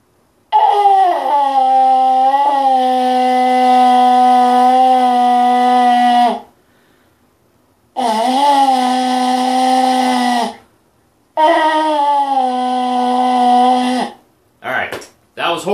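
A bison horn blown by an amateur player gives three long, loud, wavering droning blasts separated by brief pauses, followed by a few short sputtering notes.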